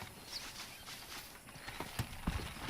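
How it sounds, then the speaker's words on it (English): Horse hooves clip-clopping in the Western video game Red Dead Redemption during horse wrangling, a soft, uneven patter of steps over game ambience with a couple of sharper thuds near the end. "Let's see if we can't wrangle some horses"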